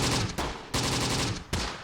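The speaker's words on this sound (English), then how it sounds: "I'm going to keep firing at the anti-tank gun, the AA gun as well." Three loud, close bursts of gunfire from Close Combat, the Bloody First Africa campaign, shooting at an anti-tank gun and an AA gun, each burst sharp-onset and sustained for about a third of a second, with no talk.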